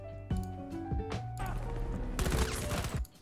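Video game shooter gunfire plays as a series of sharp, close shots and short rapid bursts mixed with game sound effects, loud and with no talking.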